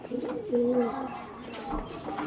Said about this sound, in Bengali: পুরো জোড়া ম্যাচিং করা আছে একদম দুটোই জামনি পাঞ্জার পায়রা